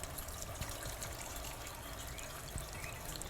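Small DIY water fountain kit bubbling and trickling continuously, a faint, close, steady splashing of water with no voices.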